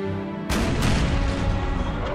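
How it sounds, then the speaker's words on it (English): Artillery fire in the video game Napoleon: Total War, American Civil War mod: a sudden loud boom after half a second of quiet hum, then dense rolling blasts and rumble that sustain to the end. "More than 50 cannons under Confederate General Daniel Ruggles rains down artillery upon the Hornet's Nest for several hours."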